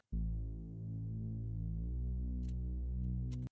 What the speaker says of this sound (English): We swapped that for a Reese bass here.